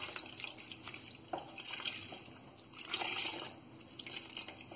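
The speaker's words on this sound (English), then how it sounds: "So we'll squeeze the water out." Water runs and drips faintly as wet, freshly dyed yarn skeins are squeezed out by hand, a soft, uneven trickle and splash with no talking.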